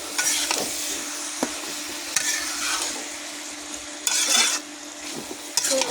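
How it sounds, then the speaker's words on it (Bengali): Cabbage curry with small-cut tomatoes stirred in a frying pan, a steady sizzle running throughout with repeated scraping strokes and a few louder clatters of the spoon against the pan. "এখন ভালো করে নেড়ে দেবো।"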